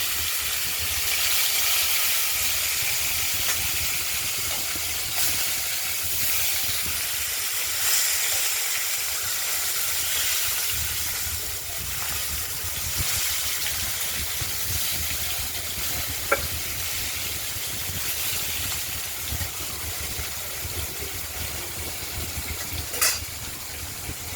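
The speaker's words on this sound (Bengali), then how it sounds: "বাকি মাছ দুটো ভেজে নেব।" Two pieces of katla fish frying in a pan, a dense continuous hiss and sizzle close by with a couple of small sharp clicks.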